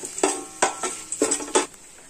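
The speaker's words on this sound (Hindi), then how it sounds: "हरी मिर्च को कड़ी पत्ता को अच्छी तरीके से फ्राई कर लेना है।" Green chillies and curry leaves frying in oil in a pan. A soft sizzle runs beneath four or five loud, close scraping stirs of a utensil against the pan, and nobody speaks.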